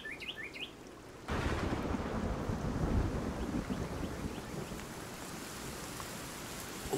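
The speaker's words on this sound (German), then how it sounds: "Und vorher noch ein Donner." In the survival game Sons of the Forest, a few bird chirps give way to a sudden loud roll of thunder that settles into dense, steady rainfall, heard alone without speech.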